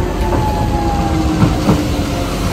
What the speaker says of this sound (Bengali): ওই দেখ ওই ট্রেনটা আসছে, ওটাতে কিন্তু ড্রাইভার নেই কোনো, ড্রাইভার ছাড়া ট্রেন